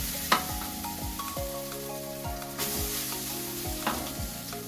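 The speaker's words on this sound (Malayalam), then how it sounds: "അതിലേക്ക് കുറച്ച് അടിയിൽ കുറച്ച് നെയ്യ് ഇടുക." Ghee sizzles at the bottom of a pot before prawn biryani is layered in, a soft, steady fry noise under a low, sustained background hum, with a couple of sharp clinks and scrapes.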